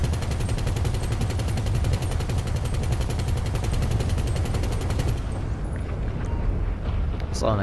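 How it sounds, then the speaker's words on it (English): In-game gunfire and explosions in Grand Theft Auto V, a continuous loud roar of rapid automatic shots and blasts that dominates, then thins out abruptly near the end. "Saw an explosion, was that you?"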